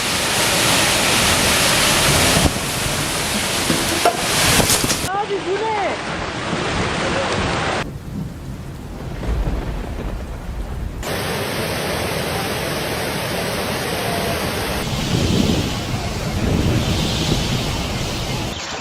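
Violent wind storm with torrential downpour in Dalaman, Türkiye, a loud constant roar of rain and gusting wind that changes texture abruptly across several cuts.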